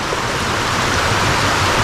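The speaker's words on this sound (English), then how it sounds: "now all the rainwater from the street goes into here. And I can hear it coming down through there." Rainwater from the street pours down into a drain, a loud, continuous rushing wash of water heard up close with no break and no voices.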